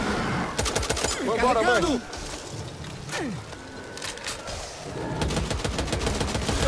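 Rapid bursts of gunfire from the Back 4 Blood video game crackle in the first seconds and again toward the end, mixed with game effects while players talk excitedly over it.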